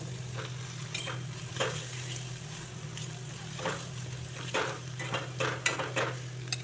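Teasel gourd seeds fry with mustard paste and prawn paste in a pan while a spoon mixes them, a low sizzle under repeated scraping and clinking strokes, close by with no talk.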